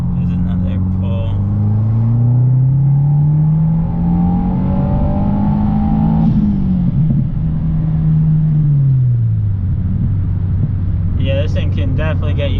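Subaru WRX running an E85 tune pulls hard, its engine note climbing steadily through the gears with a shift in the middle, loud and close from inside the cabin, with no talking.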